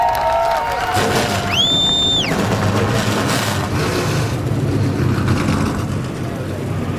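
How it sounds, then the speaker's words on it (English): Stock car engines fire up for the start of the 2015 NASCAR Nationwide Series Nationwide Children's Hospital 200. A steady, loud engine roar builds over crowd noise and cheering, with a brief rising and falling whistling tone near the start. "Drivers, start your engine!"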